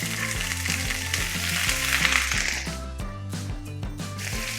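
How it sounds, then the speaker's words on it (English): Onions hitting hot coconut oil in a pan for burger steak gravy, a bright continuous sizzle with a few stirring clicks, over low background music and no talk. "I'm going to add the onions."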